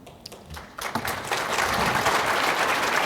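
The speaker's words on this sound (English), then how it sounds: "He got a round of applause." Applause from a panel audience at a 2016 annual meeting, starting with a few scattered claps and swelling into a steady, dense round that fills the room and continues without talk.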